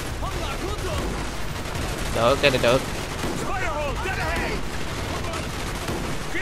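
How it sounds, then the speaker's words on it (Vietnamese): Sniper rifle test shots in the video game Call of Duty Black Ops, heard as gunfire within dense, noisy game audio, with someone speaking over it. "Rồi lấy súng ngắm cái bắn thử coi"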